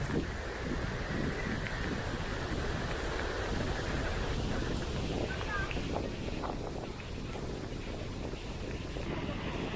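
Strong wind with rain buffeting the microphone on a Baltic Sea cliff near Międzywodzie, Poland, in a steady, loud roar that continues throughout, with a muffled outdoor rumble underneath.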